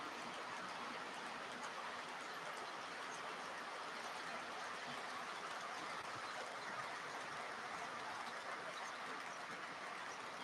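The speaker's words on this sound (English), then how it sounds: "I always try to run trains for 20 minutes or so" Model trains running on a layout give a steady, faint rolling rumble with light rail clatter throughout, continuous and even, no voices.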